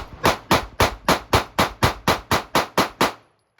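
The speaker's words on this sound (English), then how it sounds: "I'm gonna start shooting low now" Pistol fire from a Sig Sauer P365 and a Springfield Hellcat cracks out in eleven sharp, evenly spaced shots at a steady rhythm, loud and close, ending in silence.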